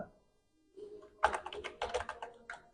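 Computer keyboard keys typing English words into a search box: a burst of quick, close clicks starts after a short silence and runs in an uneven rhythm to the end.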